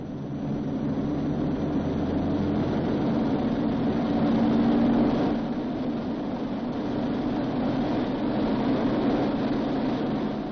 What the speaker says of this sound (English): He releases the parking brake and adjusts the engines for full military power.